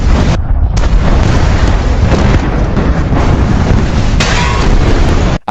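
An explosion at a chemical factory's waste warehouse, a loud sustained rumbling roar that barely drops for over five seconds, then cuts off abruptly.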